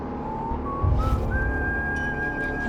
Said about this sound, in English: That's when I heard the whistling.